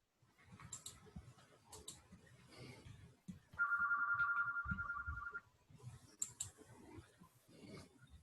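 An office telephone rings with an incoming call, a single electronic ring burst of about two seconds in the middle, set against faint clicking and quiet room noise before and after.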